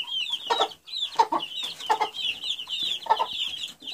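Several chickens, including Ross 308 chicks and a rooster, cluck steadily and close by, with overlapping high-pitched calls and bursts of louder clucks throughout.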